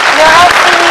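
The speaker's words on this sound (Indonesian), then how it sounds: "Tepuk tangan sekali lagi yang meriah buat Anda, Kak Priscilla." Studio audience on an Indonesian health talk show claps in a dense, loud burst of applause lasting under a second, with a host's voice speaking over it.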